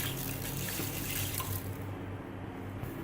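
Water pours into a cooking pot of beef for achar gosht, a close, bright, gushing splash for about a second and a half that then drops to a softer trickle and gurgle.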